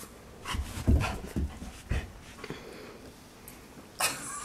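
A dog whimpers and pants in short bursts, with soft breathy sounds and a few sharper yelps scattered across the clip, fairly close.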